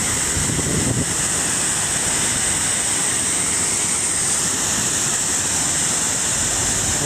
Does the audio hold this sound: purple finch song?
no